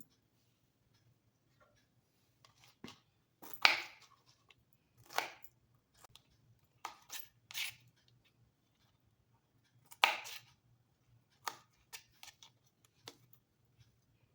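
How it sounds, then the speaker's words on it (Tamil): A knife slicing through a pineapple and trimming off its stem and dark spots, producing a handful of sparse, crisp cuts and chops spread out over a quiet background with no talking. "இப்போது பைனாப்பில் நம்ம கட் பண்ணிக்கலாம்"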